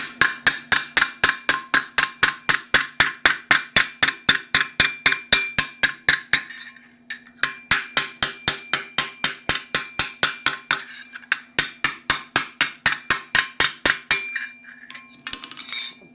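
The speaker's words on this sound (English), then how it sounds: "Slightly smaller hammer to push this section down." A slightly smaller hammer beats a steel plate for a Milanese mitten gauntlet, modeled on circa 1450 armour, in fast, evenly spaced ringing blows. Two long runs are broken by short pauses, with a faint metallic hum lingering underneath.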